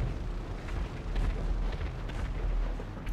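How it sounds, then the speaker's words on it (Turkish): Bombs dropped from a plane in GTA 5 explode in a continuous low, rumbling barrage of heavy booms and bursts, loud and dense throughout with no pauses. "Bombaları aşağı gönderiyor."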